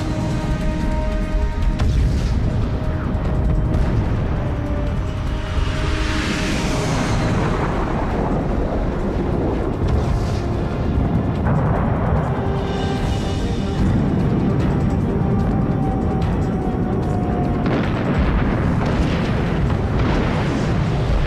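Bombs dropped on a wave of Strike Eagle bomb runs explode in a continuous barrage of heavy booms and rumbling blasts, loud and dense throughout with no speech.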